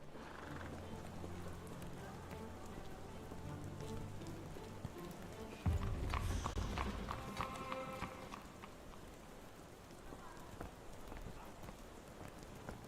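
Steady rain falling in the Sherlock Holmes The Awakened video game, a constant quiet patter throughout, joined midway by a louder rumbling thud and scattered clopping noises.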